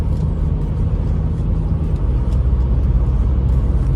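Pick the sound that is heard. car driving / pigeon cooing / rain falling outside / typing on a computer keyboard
car driving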